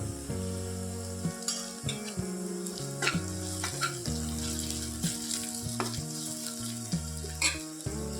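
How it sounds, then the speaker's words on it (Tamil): Onion, green chilli and curry leaves sizzle steadily in a hot pan for an Indian idli kuzhambu, with repeated clinks and scrapes of a stirring spoon breaking through the continuous frying hiss. "வெங்காயம் பச்சை மிளகா கருவேப்பிலை எல்லாத்தையும் ஒன்றா போட்டுட்டு நல்லா வணக்கி விட்டுடலாம்"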